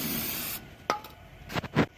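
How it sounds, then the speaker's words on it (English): Brake parts cleaner sprays in a sharp hiss onto the front differential of a Ford 6.7-liter diesel, then stops, followed by a few short rubbing and scraping sounds close by. "We're going to start spraying it down to make sure we didn't miss nothing and make sure it's all shiny."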